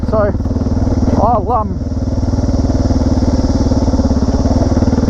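Motorcycle fitted with a new chain and sprockets, ridden on a track: a loud, steady, close engine drone with a pulsing low rumble, with someone talking briefly over it.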